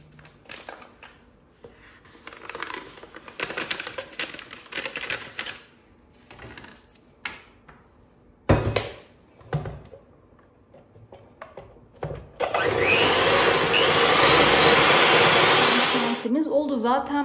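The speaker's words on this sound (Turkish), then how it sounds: "Bir paket krem şantiyle çırpacağım." An electric hand mixer whips a packet of whipped cream powder in a home kitchen. It starts as a loud, steady whirring drone partway through, after quieter clattering and shuffling.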